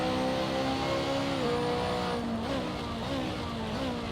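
A BMW GT2 race car in Assetto Corsa, driven at Virginia International Raceway, holds a steady high-revving engine drone with gear shifts and slight pitch dips, loud and continuous with no talk.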